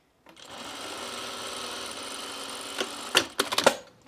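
A sewing machine stitching a bomber jacket starts up and runs in a fast, steady whir of needle strokes, then ends in a few sharp clacks and bumps as the fabric is handled, no one speaking.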